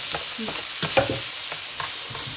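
Pan of veal roast with browned onions being deglazed with white wine, a steady hiss of sizzling liquid with a few utensil scrapes and clinks against the pan.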